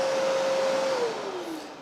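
A Festool CTM 36 E AC mobile dust extractor runs loud and close with a steady whine, and its pitch slides down as the motor begins to spin down.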